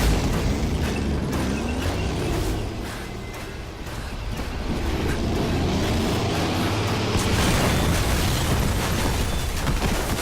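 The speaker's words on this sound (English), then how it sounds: "You can fire tank rounds." A tank round fires from an APC in Metal Gear Solid V: The Phantom Pain, a loud, sustained blast with a heavy low rumble and crackling debris that stays dense and roaring for several seconds.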